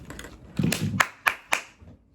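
A few hands clapping at a theater play, a short, close burst of sharp claps with three crisp single strikes at the end.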